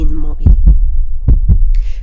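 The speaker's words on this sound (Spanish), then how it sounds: "el latido crecía cada vez más fuerte" Slow, heavy heartbeat sound effect in a dramatic story reading, four deep thumps in two double-beat pairs under a low hum, with a faint background tone near the end.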